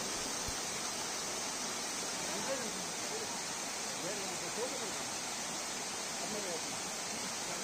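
Steady broadband rush of the Bee Fall waterfall at Pachmarhi, India, at a partly artificially designed section of the falls, a constant dense roar of falling water with no clear breaks, heard alone without talk.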